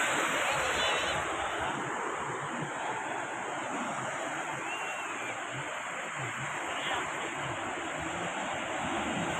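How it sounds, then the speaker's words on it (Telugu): Sea waves at Bhaga beach, a dense continuous wash of surf and wind noise across the whole stretch, loud and unbroken with no clear voices. "ఓ అలలు చూడండి."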